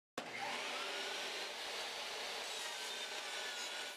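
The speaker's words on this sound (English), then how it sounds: "So I'm stuck trimming it on my table saw." A table saw trims aluminum track for a router lift, a loud, continuous, harsh cutting whine that starts abruptly and holds steady for about four seconds before cutting off, with no voices.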